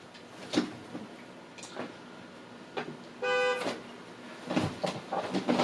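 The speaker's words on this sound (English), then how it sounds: "So they're honking their horn outside." A single short car horn toot sounds outside partway through, set against a noisy background of thumps and distant clatter.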